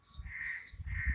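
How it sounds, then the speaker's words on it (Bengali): Crows caw in the morning outdoors, a quick run of harsh, repeated calls close by and fairly loud, with no talking over them. "কিভাবে পাখিরা ডাকছে দেখো"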